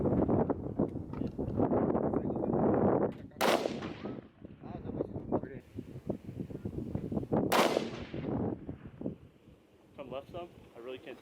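Two loud, sharp rifle gunshots aimed at a distant target ring out several seconds apart outdoors, with wind noise on the microphone and people talking between shots.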